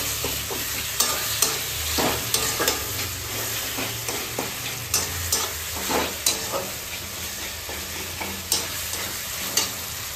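Garlic paste fries for a mutton curry while a spoon stirs it, a loud steady sizzle punctuated by regular scraping knocks against the pot.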